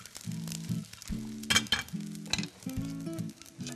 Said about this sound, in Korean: 지금 이제 바로 멸치도 투하해서 볶도록 하겠습니다.